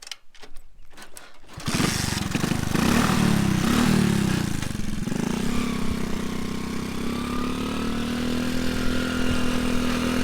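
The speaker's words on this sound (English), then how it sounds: "Most of the times we go uphill in first gear as the bike doesn't want to take the second one" Small, underpowered motorbike labouring uphill in first gear on a rough road in Laos, the engine holding a loud, steady strained drone after a brief start-up clatter.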